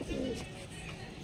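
A pigeon at an open-air pigeon sale gives a short, soft coo, fairly faint against murmuring crowd noise.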